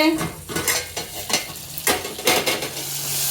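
A spoon scrapes and stirs chicken sukka in a hot pan, with irregular clattering strokes over a soft sizzle, close and moderately loud, with no voice.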